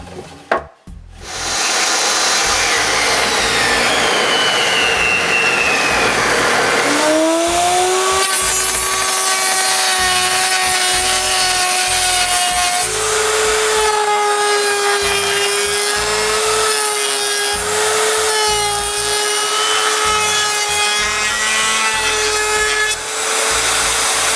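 A power saw whines continuously through wood, cutting window glass-retaining moldings, its pitch shifting as the blade cuts, loud and close with no talking.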